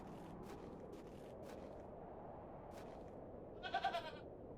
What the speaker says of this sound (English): let's go mess with the goat again